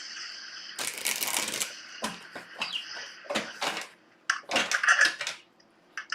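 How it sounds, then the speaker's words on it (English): Tarot cards are shuffled in several quick riffling bursts separated by short pauses, crisp and close with no talking. "One more time, one more shuffle."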